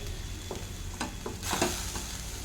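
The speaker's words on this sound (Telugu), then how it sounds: "ఇంకొంచెం ఫ్రై అవ్వాలి పాలకూర ఆల్మోస్ట్ ఫ్రై అయిపోయిందండి పాలకూర" Spinach frying and being stirred in a pan for a Telugu-style chutney, a quiet steady sizzle broken by a few soft scraping clicks of the spoon.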